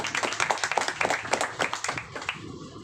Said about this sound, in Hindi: तो मैं चाहूँगा एक बार देश के लिए जोरदार ताली होनी चाहिए